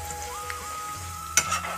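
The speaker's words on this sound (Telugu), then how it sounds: "ఇప్పుడు జీలకర్ర వేసుకుందాం. జీలకర్ర తొందరగా వేగిపోతుందండి." Cumin seeds frying in hot oil in a pan, a steady close sizzle with a sharp burst of crackling as they hit the fat, heard alone without talk.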